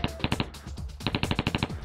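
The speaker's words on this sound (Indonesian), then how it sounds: "Suara tembakan dari pistol Bang Botak membuyarkan warga." Pistol gunshots ring out in rapid, evenly spaced bursts, loud and close, a sharp staccato volley that scatters a crowd in a dramatized scene.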